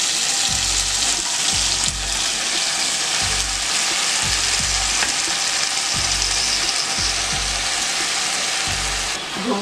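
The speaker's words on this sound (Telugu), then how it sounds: "ఇదే ఆయిల్లో మనం కడిగి పెట్టుకున్నాం కదా అండి గోంగూర, ఇది వేసుకొని వేయించుకోవాలండి." Washed gongura leaves frying in hot oil for pickle, a loud continuous crackling sizzle with repeated rhythmic scraping strokes of a spatula against the pan every second or so.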